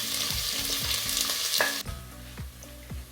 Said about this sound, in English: So you have to allow it to fry for some time